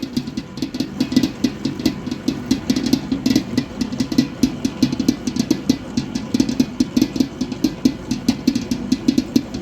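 A dough kneading machine churns slowly through baklava dough, giving off a steady, close motor hum with a rhythmic pulsing churn throughout and no voices.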